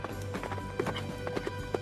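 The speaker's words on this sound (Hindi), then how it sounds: "तब घोड़ा वहां से भागने लगता है" A running horse clip-clops in quick, uneven hoofbeats over a busy background, fairly faint and without speech.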